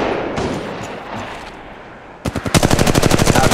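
Automatic weapon fire in the mobile battle royale Apex Legends Mobile: after a quiet ambient stretch, rapid close, loud bursts of gunshots erupt in a steady rattling stream that continues to the end.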